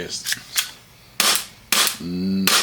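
CowCow AAP airsoft pistol with upgraded upper parts firing single shots, about four sharp close cracks spaced unevenly, with a brief voice in between.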